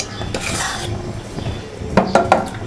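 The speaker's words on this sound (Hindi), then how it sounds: "ये गुड़ भी इसी तरह मैंने अंदर ही डाल दिया है" Jaggery and other ingredients go into a steel pot with a few clattering metallic knocks and scrapes near the end, over a low background hiss.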